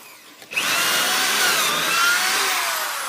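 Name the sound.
drill boring pocket holes into dense wood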